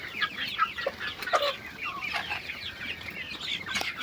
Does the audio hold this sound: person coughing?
no